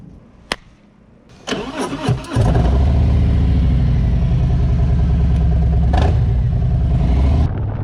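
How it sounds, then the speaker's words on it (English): A Harley-Davidson motorcycle with an M8 motor cranks over after a few clicks and fires up, then settles into a loud, steady, close-by idle with a brief blip of throttle. "go for a little ride and warm the bike up"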